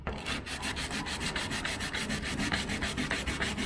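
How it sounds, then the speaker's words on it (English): Steady rhythmic strokes of 100 grit sandpaper rubbing over painted metal panels on a 1971 Range Rover, close and continuous with regular back-and-forth scratching, no voices. "I know I'm sanding with 100 grit paper, but the paint actually lifted off the metal"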